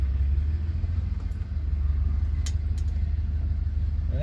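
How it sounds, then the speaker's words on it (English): A big, heavy truck rumbles past at close range with a steady low engine drone and no talking. "Well, that's a big beefy truck."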